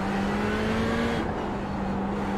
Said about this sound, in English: Sounds more like a real engine.